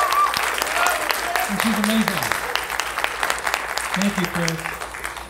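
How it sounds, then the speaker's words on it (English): An audience at a cinema fan event applauds for a volunteer, steady crowd clapping running throughout, with someone speaking briefly over the applause. "Chris, please, giant round of applause for Chris."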